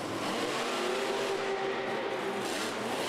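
Monster trucks accelerating off the starting line in a race at the Mercedes-Benz Superdome in New Orleans, a steady, distant roar of engines mixed with crowd noise in a large arena, without speech.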